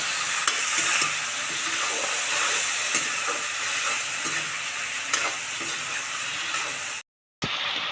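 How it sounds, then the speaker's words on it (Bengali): Potatoes seasoned with turmeric and salt fry in a pan, giving a close, steady sizzle with occasional stirring clicks, cut by a brief silent gap near the end, with no speech. "এবার আলুটাকে ভালো করে ভেজে নেব।"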